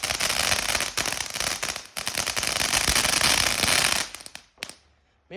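Fireworks bursting close by, a dense run of loud crackling bangs and pops that fill the first four seconds before a few scattered final cracks fade toward quiet.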